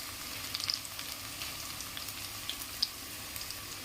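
Ginger garlic paste fries with onions in a pan for ghee rice, producing a steady, even sizzle with faint pops and crackles throughout and no talking.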